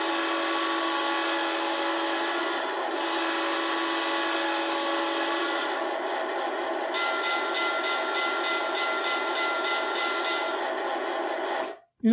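A Lionel model diesel train runs steadily on its layout, giving a continuous close hum with rail rumble that holds for about twelve seconds before cutting off abruptly, with no talking.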